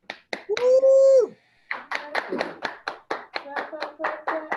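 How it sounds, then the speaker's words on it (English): Scattered hand claps at a club meeting, a few distinct claps in an uneven rhythm, mixed with a voice and a high whoop, close and fairly quiet. "Clap, clap, clap, clap."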